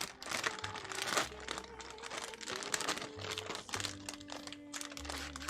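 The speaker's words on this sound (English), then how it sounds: "Man, I'm so sorry about the crinkles." A plastic bag crinkles close up while Lego sprue runners are being broken down, in continuous dense crackling with sharp irregular crunches and no talk.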